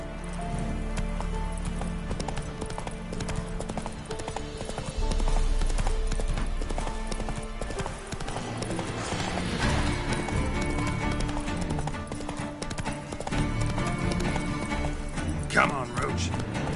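Horse hooves clip-clop steadily in the Witcher III video game, a rhythmic trot under frequent talk, with a brief whinny near the end.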